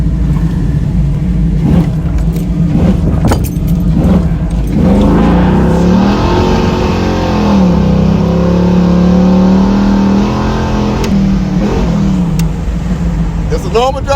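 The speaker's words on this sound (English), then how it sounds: "Now I'm downshifting now." A car with a swapped LS engine downshifts and accelerates. The loud, close engine revs up and down with rising and falling tones, and people talk over it at times.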